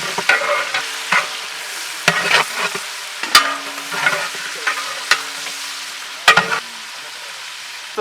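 Green chillies fry in a pan for mutton dum biryani, a soft crackling sizzle broken by sharp metallic scrapes and knocks of a spoon stirring, heard close with no talking.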